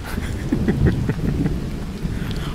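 Steady heavy rain and low rumbling thunder roll continuously as a sound effect in a Hindi horror audiobook, a dense, loud wash with faint droplet ticks throughout.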